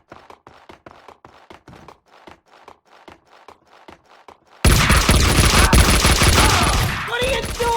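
Gunfire in the video game Max Payne 2 begins as a quick rhythmic string of light shots with short gaps, then bursts into a loud, dense fusillade with a sustained roar of overlapping gunshots and ringing tones.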